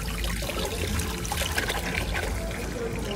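Water pours steadily into a cup or glass at home, a continuous close trickle lasting the whole moment with voices faintly in the background.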